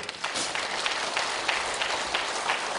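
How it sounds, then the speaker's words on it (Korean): A church congregation of nearly two hundred applauding together at a Korean church service, a dense, steady wash of clapping filling the room, with no talk over it. "이때는 박수 한번 치세요."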